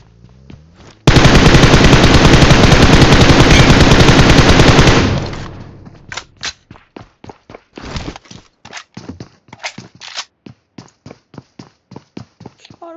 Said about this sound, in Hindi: गोलियां पड़ रही